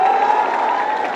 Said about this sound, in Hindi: इसके लिए जोरदार ताली बजाओ सब लोग।